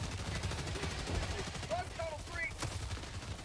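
Gunfire in the Helldivers 2 co-op shooter: rapid, fairly faint repeated shots under a busy game background, with short chirping effects midway and one sharp crack near the end.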